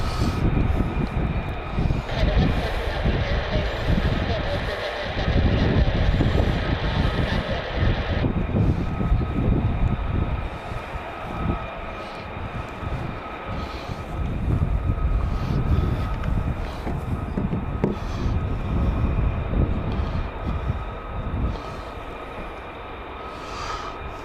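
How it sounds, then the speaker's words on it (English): Strong gusting wind buffets the microphone outdoors near RAF Lakenheath, a constant heavy low rumble with a distant aircraft engine drone under it. "the wind is just absolutely crazy up here"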